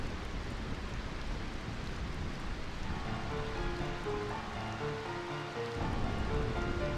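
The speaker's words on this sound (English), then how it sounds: "I find this rain quite pleasant." Steady rain falls in a scene from Final Fantasy IX, a continuous soft hiss and patter with faint musical tones emerging toward the end and no voices.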